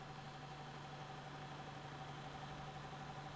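An AC permanent magnet motor running at about 720 RPM gives a faint, steady hum with a constant tonal drone and even, unbroken vibration throughout, with no talking.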